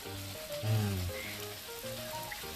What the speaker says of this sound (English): I know you can listen to the sounds of the how do you call that, the sound of grilling.